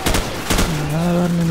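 Gunfire in Call of Duty Modern Warfare during a swamp fight guarding a disabled M1A2 Abrams tank: two short loud bursts of shots close together, followed by a steady droning tone.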